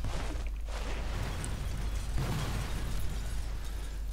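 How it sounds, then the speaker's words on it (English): An explosion in the stealth shooter Sniper Elite 4 on the Regilino Viaduct mission is heard as a broad, rumbling blast that stays loud and noisy throughout without clear breaks. "Cool guys don't look at explosions."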